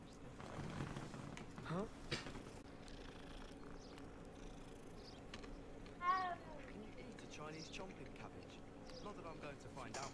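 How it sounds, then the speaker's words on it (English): A cat in Hogwarts Legacy being petted, giving a soft continuous purr with a brief meow near the middle, set against steady game ambience and music. "Gotta pet the cat."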